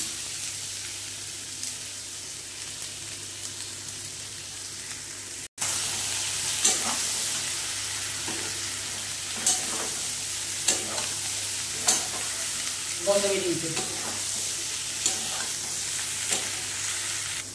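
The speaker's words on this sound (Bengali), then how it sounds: "সেদ্ধ করা এঁচোড়গুলো দিয়ে কষে নেবে মশলার সঙ্গে" Boiled jackfruit sautéing with spices in a pan for a vegetarian curry, a steady close sizzle with repeated stirring scrapes and utensil knocks running throughout, briefly cut near the start.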